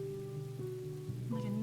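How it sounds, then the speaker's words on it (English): Steady rain patters on surfaces as gentle ambience in the cozy room-decorating game MakeRoom, set at a little cafe, a soft continuous wash under faint game tones. "Like a nice rainy day."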